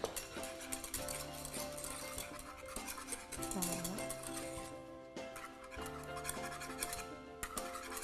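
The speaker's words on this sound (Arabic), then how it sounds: "نحركو انرجيكمون باش تدوبلنا لا جيلاتين تاعنا" Meringue mixture being stirred vigorously in a bowl to dissolve gelatin for a Bavarian cream, a steady scraping and tapping of utensil against the bowl sounding close and continuous over background music, with no talk.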